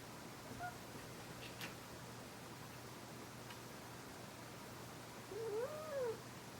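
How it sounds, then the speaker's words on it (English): A cat lets out one short, rising-and-falling meow near the end, fairly faint, over a steady low hum in a quiet indoor room with a 1991 Casablanca Comfort-Touch Stealth ceiling fan. "That's my cat."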